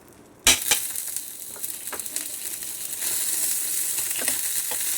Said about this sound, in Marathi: भाजून घ्यायचं चांगलं पलटून मस्त कलर आलेला आहे